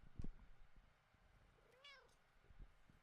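A short, faint cat meow with a rising-falling pitch, heard close in a quiet room with a few soft bumps.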